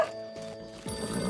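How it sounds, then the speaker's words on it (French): A cartoon telephone rings in short bright electronic bursts, moderately loud, as a horse's hooves clop faintly nearby. "Téléphone."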